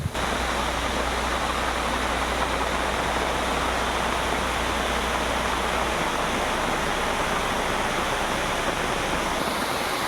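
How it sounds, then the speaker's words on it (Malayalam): A continuous, dense roar of a monsoon waterfall in Vagamon, Idukki, steady and close, with no pauses and no voices over it. "ആ വെള്ളച്ചാട്ടവും മഴയും"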